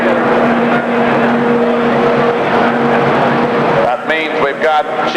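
Light super stock pulling tractor engine roaring steadily at a 1985 Indy tractor pull, loud and continuous with a droning tone, while an announcer talks over it near the end.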